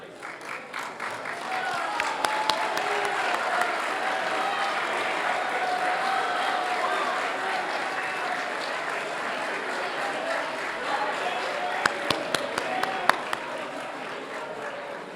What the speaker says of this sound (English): I would ask that you all please stand now so we can applaud you in your accomplishments in the classroom.